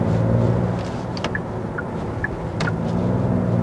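The Genesis G80 Sport's engine sound generator, heard from inside the cabin in sport mode, makes a loud, steady low rumble with a few faint clicks and ticks over it.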